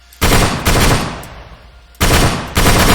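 Heavy .50-cal machine gun fire from a modded weapon in the IFA3 WarMod game, loud sustained bursts broken by a brief lull with a fading tail, then two more bursts close together, with no talking.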